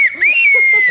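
A person whistling a single shrill, sustained high note that slides upward and then holds steady, loud and close, with faint background noise.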